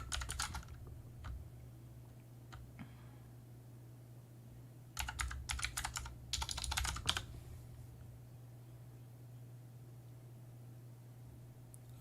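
Computer keyboard keys tapped in short scattered clicks and a few dense bursts of rapid typing, fairly close, over a steady low hum with no talking.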